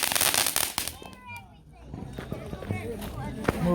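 Fireworks let off by a group outdoors pop and crackle in sharp bursts, close and loud, with a short lull before more cracks, while excited voices and children chatter throughout.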